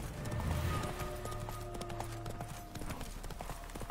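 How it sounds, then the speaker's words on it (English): Galloping horse hooves from a video game horse ride, a steady rapid clip-clop rhythm, faint and continuous over a low background. "I am fucking driving this horse like a madman."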